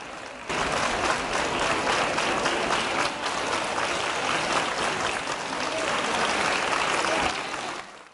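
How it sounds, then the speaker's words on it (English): An audience at a children's dance performance claps steadily and loudly for several seconds, a dense sustained applause that starts abruptly and tails off at the end. "Old and young clap along and enjoy the children's dancing."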